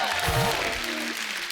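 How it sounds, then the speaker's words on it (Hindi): Applause from a TV comedy show studio audience, steady clapping throughout with a voice briefly audible underneath. "एक बार जोरदार ताली हो जाए"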